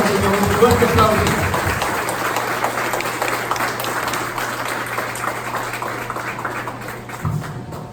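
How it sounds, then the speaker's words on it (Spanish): A church congregation applauds in a steady wash of clapping, starting under a voice and continuing at moderate loudness, with a faint hum running beneath. "Un fuerte aplauso al Señor Jesucristo."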